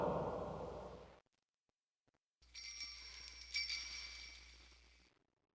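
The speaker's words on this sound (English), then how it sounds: "you can only hear the sounds of his bells" A jester's bells from The Dark Eye game jingle in a faint, bright shimmer after a short silence, a thin metallic tinkling that swells briefly and fades, with no talk.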